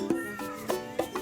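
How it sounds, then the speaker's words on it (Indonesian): Several short cat meows in quick succession, fairly close and clear, heard outdoors at a scenic homestay at sunset with no talking over them. "Kucing."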